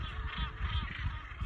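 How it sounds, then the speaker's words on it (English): Migrating birds, likely geese, honk in a busy flock near Cape St. Mary's. Overlapping calls come from mid-distance over a rumbling wind-like background. "The birds that come to migrate here every year"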